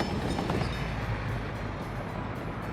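Train in the game Workers and Resources, a continuous rumbling rail roll with dense rhythmic clatter, steady and fairly loud, with no talking.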